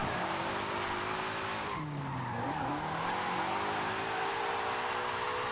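A car drifting in Forza Horizon 5 on drift suspension, with a continuous engine drone and a long sliding tire squeal that dips in pitch under braking before the engine climbs again, loud and steady throughout.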